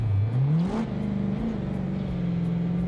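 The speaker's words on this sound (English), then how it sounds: "Oh, is Callum's car loud?" A drift car engine in BeamNG revs up in a rising whine, dips, then holds a steady mid-pitched drone, moderately loud and alone.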